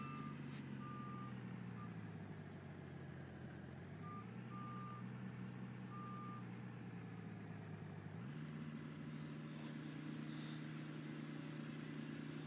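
A truck in Farming Simulator 19 backs up at the shop on a mining map, its reversing alarm beeping in a steady repeated pattern over a constant engine drone.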